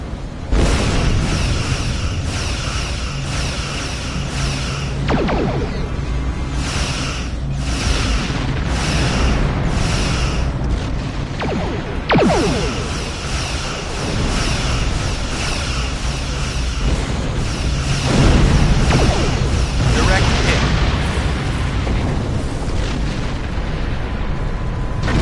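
Starship weapons fire and explosions in Star Trek Online during a battle against Borg spheres: loud, continuous booming blasts and bursts overlapping one another, with sharper hits standing out throughout.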